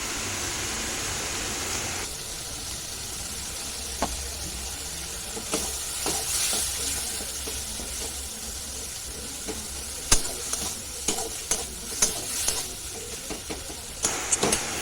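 Spices with Kashmiri chili powder fry in a pan with a steady hiss and sizzle, a utensil scraping and tapping now and then, growing busier with clustered clicks toward the end, close and without speech.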